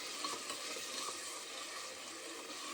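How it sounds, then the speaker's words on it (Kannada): Onion, turmeric and chili paste frying in oil in a pan, a quiet steady crackling sizzle with soft bubbling throughout and no voices. "ಈರುಳ್ಳಿ, ಖಾರ ಹಾಕಿ ಚೆನ್ನಾಗಿ ಫ್ರೈ ಆಗಬೇಕು."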